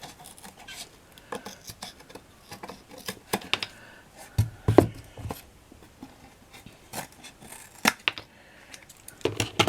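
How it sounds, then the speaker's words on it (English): Scissors snip through thin chipboard structure strips: a string of sharp, irregular cuts close by, with small rustles of the board between them and no talking. "just to snip these off. These little structure strips"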